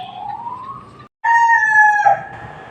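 A rooster crows loudly in two long, rising-and-falling calls separated by a brief gap, with faint clucking and barnyard noise underneath.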